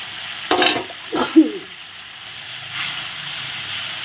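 Ground turmeric, coriander, cumin and chili powder frying in a pan, with a splash of water, for a vegetarian dhoka curry. A few close scraping stirs come early, then a steady low sizzle carries on.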